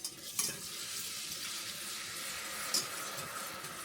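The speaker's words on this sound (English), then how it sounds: "we're going to add in our beef broth." Beef broth is poured slowly into a butter and flour roux, giving a steady close sizzle and liquid hiss with a couple of brief clinks.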